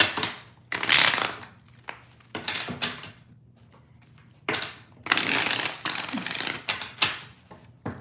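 Tarot cards being shuffled by hand in repeated bursts of riffling and sliding, with short pauses between shuffles, close and fairly loud with no talking.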